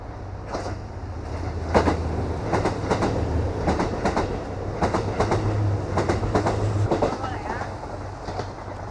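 A sightseeing train pulls into a station in Japan, with a steady low rumble and rhythmic wheel clicks over the rails, close and continuous, while people talk nearby.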